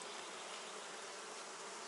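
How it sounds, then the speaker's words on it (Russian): Dense, steady buzzing of many honeybees at an open beehive during colony splitting and frame work, a continuous close hum with no talk. "Видите, сколько пчел здесь?"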